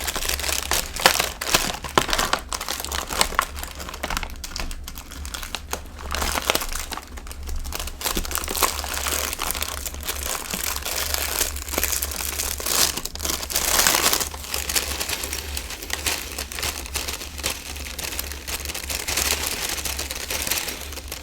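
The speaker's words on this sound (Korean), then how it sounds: "이렇게 비닐 포장이 한 번 더 되어 있습니다." Plastic wrap around a package of yellow tea is handled and crinkled at close range, producing continuous irregular crackling and rustling.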